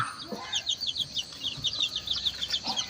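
A chicken clucks repeatedly in quick, close, moderately loud bursts, rhythmic and uninterrupted, with no talking over it.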